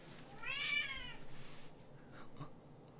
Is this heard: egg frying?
no